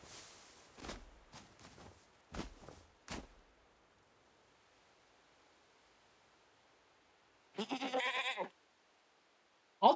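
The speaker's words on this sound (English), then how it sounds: "Did I just hear goat?" A goat bleats once in a video game, a short loud burst near the end after some earlier scuffling footstep-like sounds and a long quiet stretch.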